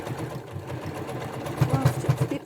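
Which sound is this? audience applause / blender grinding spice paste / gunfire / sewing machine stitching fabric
sewing machine stitching fabric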